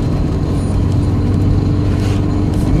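A 1969 Ford Mustang Mach 1 engine rumbles loud and close on a road, with a deep steady idle and a slight rise in revs toward the end.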